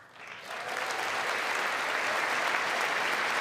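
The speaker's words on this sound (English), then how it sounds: "this is gonna be a long speech if they're gonna clap after every single sentence" Sustained applause fills the Congress chamber during the 2026 State of the Union address, rising quickly from a quiet start into a loud, steady wash of clapping from a large crowd.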